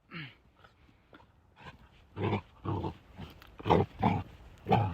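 A large dog pants close to the mic in quick, breathy bursts that start soft and grow louder and more regular toward the end.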